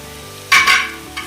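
Jaggery is stirred into soft-cooked raw mango in a pan over the flame, giving two quick, close, wet scraping strokes and a fainter third, over a low steady hiss.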